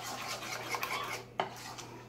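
Sauce being stirred in a pot with a utensil, soft scraping and clinking strokes at close range, then a sharper clack near the end, fairly quiet throughout.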